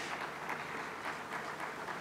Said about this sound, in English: We can welcome him with a warm hand clap.